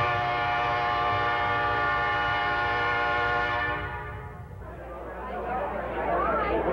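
A train horn sounds long and loud over the rumble of an approaching train, then breaks off into clattering rail noise as the train passes, with a voice speaking over it.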